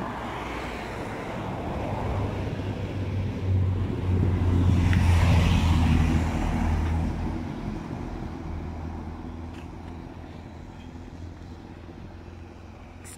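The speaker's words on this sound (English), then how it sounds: "But for some reason, there's a lot of traffic." Heavy road traffic in a British suburb near a shopping complex, a continuous low rumble of passing vehicles that swells in the middle and then eases, along with some wind noise.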